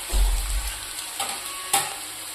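Onions sizzling in a pan for cabbage palya, a soft steady fry with a few stirring scrapes and one sharp clink, fairly quiet and close with no talking.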